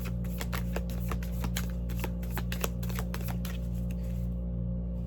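Tarot cards being shuffled and drawn, a quick run of crisp riffling flicks and soft slaps, close and fairly quiet, ending in near silence.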